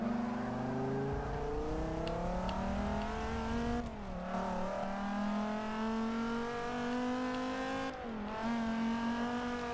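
Race car engine in the Forza Motorsport 6 video game, a sustained high revving whine that climbs steadily through the gears, with brief dips at shifts, loud and close throughout.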